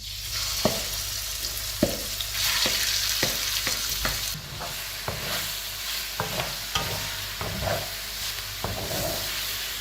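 Chicken breast sizzles in olive oil in a pan, a steady close frying hiss broken by regular clinks and scrapes of a utensil stirring, with no voices.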